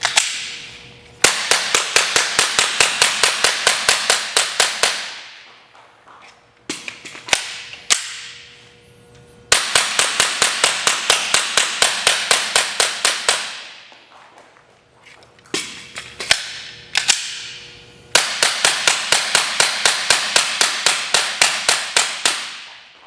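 A Glock 9mm pistol fires rapid strings of loud, sharp shots in three long bursts separated by short pauses, each magazine emptied in a fast, steady rhythm with ringing reverberation between rounds.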